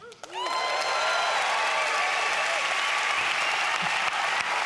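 An audience at a medical debate on sepsis and women in intensive care breaks into loud, sustained applause with some cheering, a dense wash of clapping that carries on to the end after a brief voice at the start.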